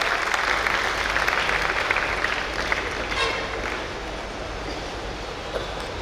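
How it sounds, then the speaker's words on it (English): A large audience at a Rotary International district gathering breaks into steady, dense applause that holds loud for several seconds, then eases slightly toward the end. "Let's welcome them with a round of applause, friends."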